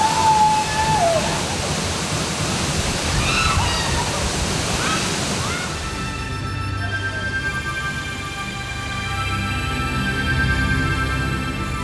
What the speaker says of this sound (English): Madhupkundo, where the Khasis live, has the biggest waterfall in the country.